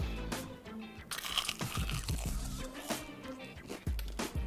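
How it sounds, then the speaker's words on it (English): Someone bites into crispy fried chicken up close. There are several loud, sharp crunches followed by chewing, with no speech. "listen to the crunch once again,"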